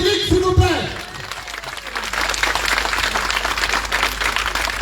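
Audience applause at a tribute speech honouring Cédric Cornet, a broad steady wash of clapping that rises after a brief stretch of talk and continues to the end.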